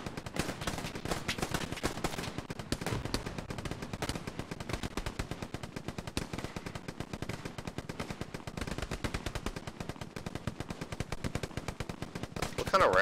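Rapid, sustained gunfire from an M1 rifle and surrounding weapons in a World War II video game battle around a trench complex, dense bursts of shots continuing throughout with no speech.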